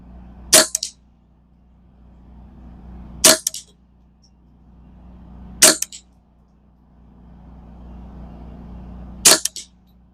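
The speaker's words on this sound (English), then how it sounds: "Get on the SUBSONICs. Do 5 shots." Ruger 10/22 rifle firing subsonic rounds outdoors, four sharp cracks a couple of seconds apart, each with a short echo, over a low steady background hum.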